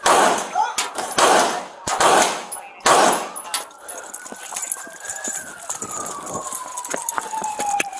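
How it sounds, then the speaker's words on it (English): Several loud, sharp gunshots crack out in quick bursts during an armed police standoff, followed by a wailing siren rising and falling, with shouting voices mixed in. "shots fired, shots fired."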